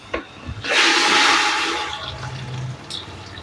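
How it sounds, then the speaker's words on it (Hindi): Water pours into a pot of meat with ginger-garlic paste for palak gosht: a steady, close rushing splash of about two seconds that tapers off, with no talk. "अब इसमें हम ऐड करेंगे पानी"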